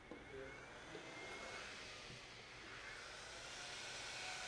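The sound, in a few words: Bitaxe bitcoin miner cooling fan blowing air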